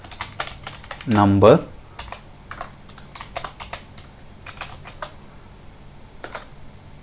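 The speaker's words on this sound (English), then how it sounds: "So now I am typing 10." Computer keyboard typing while entering input for a Python program: a scatter of quick, crisp key clicks in short bursts, with someone speaking briefly early on.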